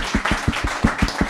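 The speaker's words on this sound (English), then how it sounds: "Give these people like a great Harlem clap." Audience at a Silicon Harlem meetup claps in a steady, rhythmic unison beat, about six sharp claps per second-and-a-bit, close and loud over a background of crowd noise.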